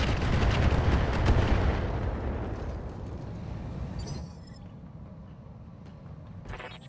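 Rapid LRM missile salvo launching in the mech combat game RogueTech, a dense, loud rumbling barrage of blasts that trails off into quieter background rumble.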